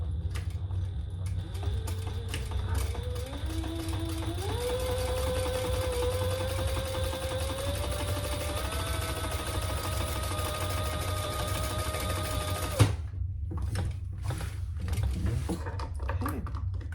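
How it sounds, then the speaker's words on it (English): A sewing machine topstitches an eighth of an inch along the side piece of a Mysa crossbody bag. Its steady close motor whir rises in speed in several steps, then stops abruptly with a clunk, leaving faint handling noises. "Now we're going to turn that and top stitch along the side piece"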